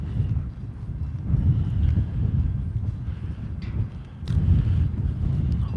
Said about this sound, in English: has the wind really been drowning me out